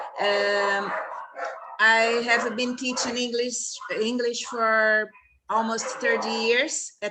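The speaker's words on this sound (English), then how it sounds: "the dogs are crazy" Several agitated dogs barking outside a house, loud repeated barks and yips overlapping with someone speaking, the barking bursting in and out between his phrases.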